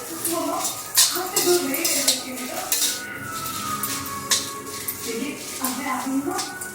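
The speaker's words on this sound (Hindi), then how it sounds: "बस नमक डालने के बाद फिर से मिक्स करिए।" A spoon stirs and tosses noodles with salt in a pan, giving close scraping and clinking strokes with a light sizzle underneath, in a steady irregular rhythm while someone speaks over it.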